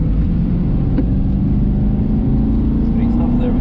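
An Aston Martin V8 Vantage on the Knockhill Racing Circuit track, its engine droning loud and steady from inside the car as it is put back onto the power, a continuous low rumble throughout.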